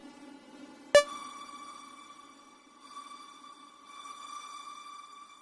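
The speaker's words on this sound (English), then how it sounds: "It's like it's feeding back through a delay line back into the reverb." A Qu-bit Aurora Eurorack reverb module with its reflect control turned fully up, feeding delays back into the reverb: one sharp struck tone blooms into a long, shimmering sustained wash of ringing harmonics that swells gently and never fades out.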